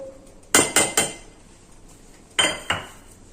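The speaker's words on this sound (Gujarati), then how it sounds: "હવે આપણે આ રીતના મોટી ચાળણી લઈ લેવાની છે તેની અંદર મેંદો લીધો છે" A large sieve holding maida for a chocolate lava cake knocks sharply against a metal vessel: three quick bright clanks, a pause, then two more, loud and close with no speech.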